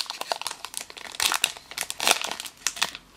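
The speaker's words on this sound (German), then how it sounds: "Da ist es mir leider nicht gelungen, die Tüte super zu öffnen." The crinkly foil wrapper of a Pokemon card booster pack is torn open by hand, giving close, loud bursts of crumpling and ripping in an irregular run with short pauses, and no talk.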